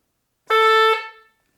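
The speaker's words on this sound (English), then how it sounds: "And the other is a metal reed pipe," A single buzzy, reedy note from a metal reed organ pipe sounds for under a second, bright and brassy, then fades quickly into silence.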